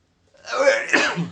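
A single person sneezes close by, one short, breathy burst lasting about a second after a brief silence, with no other sound around it.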